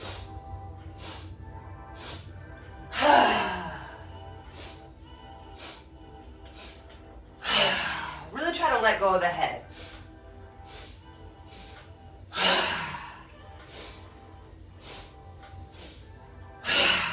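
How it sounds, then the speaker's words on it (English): A yoga breath-of-joy exercise: forceful breaths through the nose and mouth come in three separated bursts, each a quick series of sharp inhales followed by a longer exhale, close and clear over a quiet background. "Let's do a couple rounds of breath of joy."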